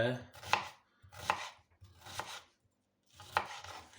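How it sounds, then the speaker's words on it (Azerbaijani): Onion being chopped into crescent slices on a board, four distinct knife strokes in an uneven rhythm, close and clear with no voices. "soğanımızı doğrayırıq"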